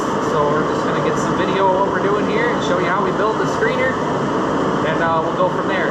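A space heater runs in a Michigan workshop in winter, giving a steady broadband whoosh and hum that fills the whole clip beneath someone speaking close to the microphone.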